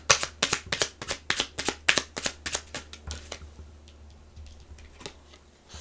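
A deck of tarot cards is shuffled up close, a quick run of crisp riffling snaps that slows and fades into lighter, sparse card taps.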